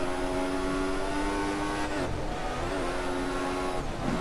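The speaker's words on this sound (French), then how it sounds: "vous avez entendu le bruit du moteur" A Formula 1 race car engine in the F1 2014 video game drones at high revs with a steady whine, briefly dipping during a gear change before climbing again.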